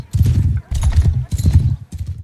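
A horse's hooves beat in the video game Mount & Blade II: Bannerlord, four heavy, rhythmic thudding bursts close up, the last one shorter.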